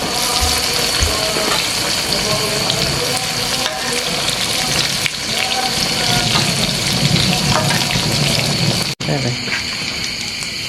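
Pieces of tempeh fry in hot oil, a loud continuous crackling sizzle with bubbling and occasional stirring scrapes, while people talk faintly in the background.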